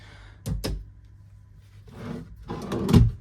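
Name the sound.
hotel room drawer opening or closing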